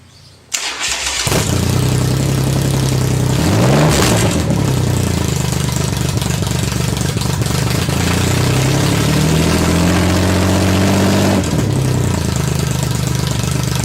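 A Viking Crossover motorcycle engine running without an exhaust cranks and catches, then settles into a loud, rough, unmuffled idle with a brief rev partway through.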